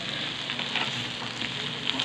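Food sizzles and crackles in a hot pan, a steady close hiss with scattered pops, no voices.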